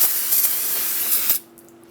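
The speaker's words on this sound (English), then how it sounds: "you can spray it down with some brake parts cleaner." A can of brake parts cleaner sprays in one steady, close hiss for over a second, then cuts off abruptly into near silence.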